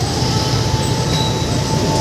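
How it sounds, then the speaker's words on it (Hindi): Metro train running past in a busy city street, a loud continuous rumble and roar with a faint high squeal over it, close by and steady throughout. "ये वाली आ रही है मेट्रो की गाड़ी"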